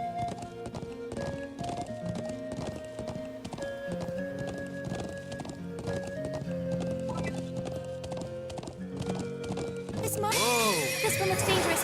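A steed in the Trails of Cold Steel video game: rhythmic hoofbeats clip-clop steadily over a game music backdrop, then a loud, close whinny rises and falls near the end.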